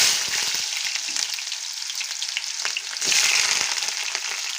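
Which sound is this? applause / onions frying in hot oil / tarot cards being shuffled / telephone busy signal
onions frying in hot oil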